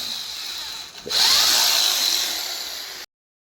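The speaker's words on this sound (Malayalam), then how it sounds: "നമ്മൾ ആ പ്ലേറ്റൊക്കെ വെച്ച് കൊടുത്ത് സ്ക്രൂ ചെയ്തിട്ട് അത് എന്താ പറയുക ഉറപ്പിക്കുകയാണ്" A power drill driving screws to fix a mounting plate onto a new bird cage, a short steady whirring burst after a brief start, close and alone, cutting off abruptly.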